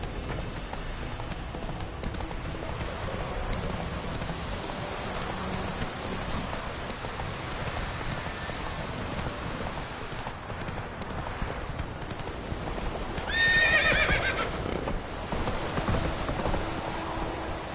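Roach, the horse in The Witcher video game, clip-clops along steadily with hooves ringing over constant rain, and a brief whinny rises near the end.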